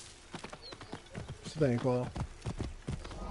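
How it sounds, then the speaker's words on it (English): Horse hooves clip-clop at a steady, quick pace in the Assassin's Creed Origins video game, running under ongoing talk from a voice throughout. "And your horse comes up out of nowhere"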